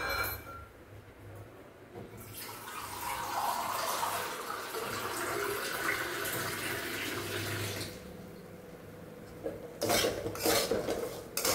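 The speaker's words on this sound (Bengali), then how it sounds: "এবার জল দিয়ে দেবো।" Water pours from a tap into a cooking pan of fish, a steady broadband splash rising at about two seconds and running for several seconds, then stopping, followed by a few close clinks of a pot and utensil.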